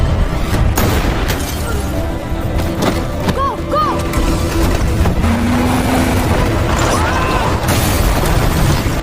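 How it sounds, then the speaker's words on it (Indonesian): RPG rockets fired during a war-film gunfight, dense continuous booms and crashes packed with impacts, loud and busy throughout with a voice briefly under the din. "Mereka terus diberondong menggunakan RPG"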